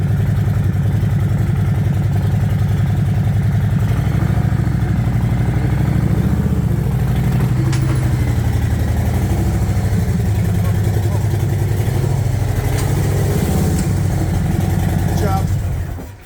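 A Harley-Davidson motorcycle engine idling, a loud steady low rumble that runs close and unbroken before cutting off at the very end, with people talking over it.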